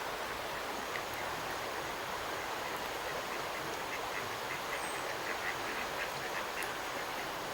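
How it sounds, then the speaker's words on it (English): Ducks quacking in a small group outdoors, a steady wash of background noise behind the calls, no voices. "Oh, look, there's a family of ducks."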